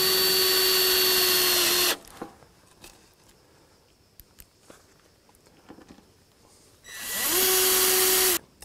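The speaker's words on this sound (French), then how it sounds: "Et on visse sans trop serrer pour éviter d'écraser." Power screwdriver driving screws into a metal terrace substructure for paving slabs, two loud whirring bursts, one at the start and one near the end, separated by quiet handling clicks and taps.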